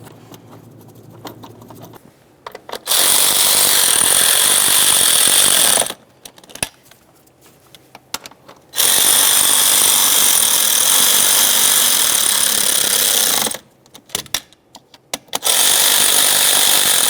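A power tool snugging the four throttle body mounting bolts on a 2006-2012 Ford Fusion 3.0L V6, in three loud sustained whirring bursts of several seconds each with quiet gaps and a few short blips between them.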